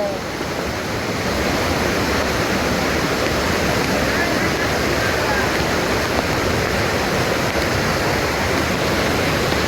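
Strong rushing water pours loudly and steadily at Jatashankar Mahadev temple in Junagadh during heavy rain, a dense continuous roar close by that fills the whole stretch, with faint voices mixed in beneath it.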